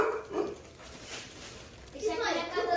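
Dogs bark at a house in a neighbourhood, with a couple of short bursts of barking mixed in with people talking nearby.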